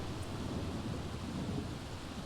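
Steady rain pours in The Sims 3 video game, a dense, even wash of rainfall with a low thunder rumble underneath, continuous and fairly loud throughout.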